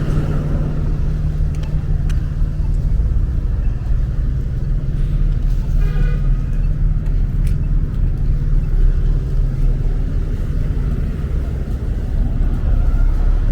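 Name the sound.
street traffic in Brooklyn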